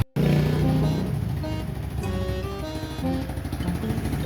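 A motorcycle engine idles close by, a steady, even running hum with faint tonal whine that holds on throughout after a brief start.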